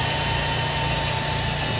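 A magnetic drill bores holes in steel beams while a chicken house is being raised, giving a loud, steady, unbroken mechanical whine with a constant tone and no voices.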